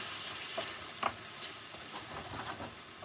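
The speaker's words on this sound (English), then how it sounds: "So give it a stir once and scrape the bottom." Pathia curry being stirred and scraped in a hot pan, a steady sizzle broken by irregular scrapes and soft knocks of the utensil against the bottom, close and without talk.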